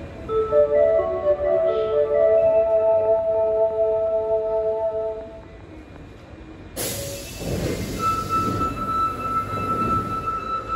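An Osaka Metro Midosuji Line train at Nishinakajima-Minamigata station, with a loud rumbling pass, sustained tonal whine and wheel squeal, then a sudden bright shift to high-pitched motor hum and hiss as the train runs on, no voices.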